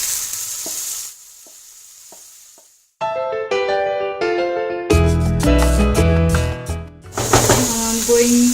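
Tomatoes drop into a hot pan for an Indian-style light chicken stew: a bright sizzle at the start, then a stretch of melodic music, and the sizzle returning loudly near the end.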